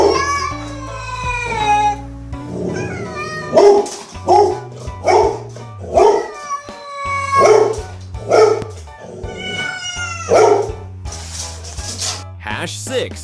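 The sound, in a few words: dog barking and a cat barking along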